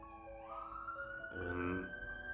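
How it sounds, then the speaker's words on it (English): A siren wails and rises in pitch at a moderate distance, its tone sweeping upward over a low background hum. "sorry about the siren."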